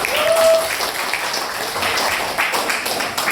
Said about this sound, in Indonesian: Tepuk tangan tuh Alif dulu.